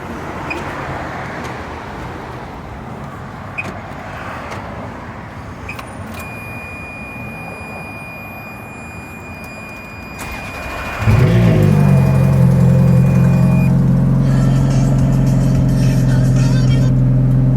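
A Ferrari 360 gives off a faint airy hiss while the brakes are pressed, then a much louder, deep engine rumble takes over for the last third, close and steady.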